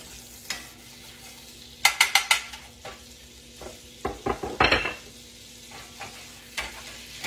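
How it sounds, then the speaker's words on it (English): Red snapper fish frying fast in butter in a small pan sizzles quietly, with a few quick bursts of utensil scraping and clinks against the pan. "We're going to cook it in butter kind of fast."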